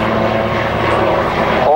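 A Super Puma helicopter climbing during a low pass, a loud steady rotor and engine drone with a rhythmic chopping pulse, with a voice talking over it.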